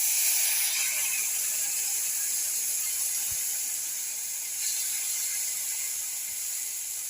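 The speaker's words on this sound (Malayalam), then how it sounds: "പുളി വെള്ളം ഒഴിച്ചു കൊടുക്കുകയാണ്." Tamarind water poured into a hot pan of spices for a chilli curry gives a steady, bright hiss and sizzle that runs continuously, easing slightly partway through, with no voices.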